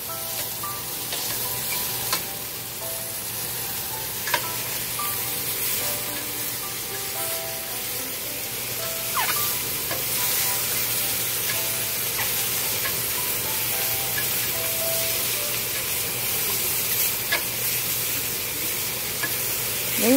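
Tofu being stir-fried in a home pan, a steady close sizzle with scraping and stirring strokes throughout, no talking.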